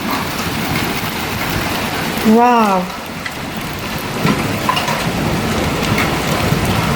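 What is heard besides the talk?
hailstorm with thunder on a roof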